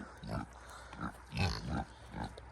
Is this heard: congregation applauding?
no